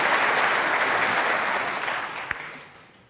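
Audience applause breaks out after Ronnie O'Sullivan pots a red in a snooker match against Hossein Vafaei, a dense, loud burst of clapping that tapers off over about three seconds with no talk.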